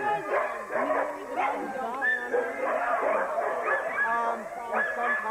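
A Labrador retriever barks and yips repeatedly in quick bursts, mixed with whimpering and whiny howls, fairly close and continuous throughout.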